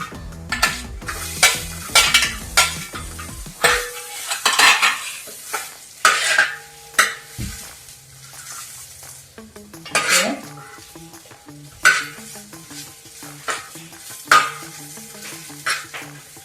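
A spoon scrapes and clatters against a pan while chicken masala with green chilies is stirred, repeated metallic knocks over a low sizzle, close and fairly loud, with no talking.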